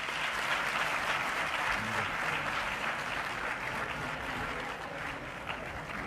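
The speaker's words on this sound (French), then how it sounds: "On applaudit très fort, s'il vous plaît." An audience applauds at a formal address by a Malian prime minister, steady full-room clapping sustained for several seconds, fairly distant and even in level.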